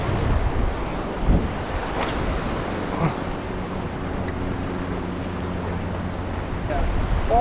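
Ocean surf washes steadily against a Florida jetty, a continuous rushing wash with wind buffeting the microphone and one louder thump early on.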